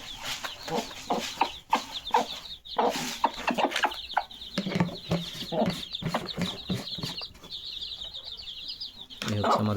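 Chickens on a poultry farm cluck and squawk in repeated bursts close by, with a steady high-pitched chirping chorus of chicks running underneath throughout.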